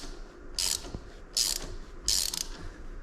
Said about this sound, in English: this is the first screw that I'm tightening up